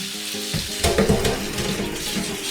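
Bacon frying in a pan for pasta carbonara, a steady close sizzle with a louder burst of crackling and stirring about a second in, then a continuous hiss that holds level to the end.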